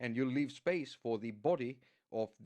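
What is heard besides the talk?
None of the usual background noises is heard.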